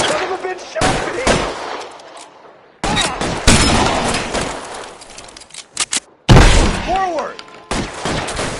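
Game gunfire from LA Noire comes in dense, loud bursts of sharp shots that cut in and out between quieter gaps, with shouting voices mixed among the volleys.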